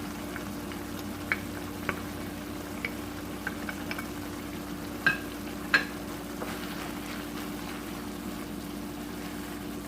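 Garlic frying in a pan for lasagna, a steady low sizzle with faint crackles and a few small clinks of a utensil against the pan, heard close and alone.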